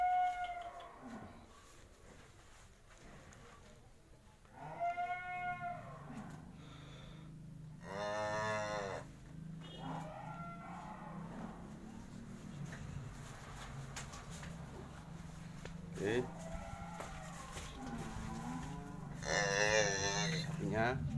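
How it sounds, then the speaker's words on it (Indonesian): Cattle at a farm moo repeatedly in several drawn-out calls spread across the clip, some close and loud, with a steady low background hum between them. "Sapinya, oke, cakep-cakep semua, istimewa."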